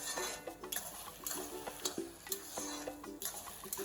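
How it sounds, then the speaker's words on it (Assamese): Cooked rice frying in a pan comes through as repeated spatula scrapes and knocks over a soft sizzle, quiet and close, with no talking. "আমি এইখিনি ধুনীয়াকৈ ভাজি ল'ম"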